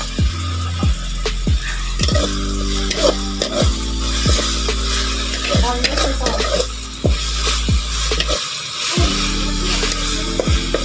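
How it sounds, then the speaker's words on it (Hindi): Jackfruit pieces frying in a pan, with a loud continuous sizzle broken by repeated rhythmic scrapes and knocks of a spoon stirring against the metal, close and busy throughout. "इसको मैं अच्छे से भून लेती हूँ"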